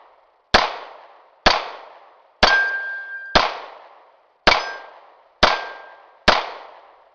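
Star Model BM pistol fires seven sharp, loud shots at a steady unhurried pace, each crack ringing with a metallic clang and short decay, with a faint ringing tone after several shots.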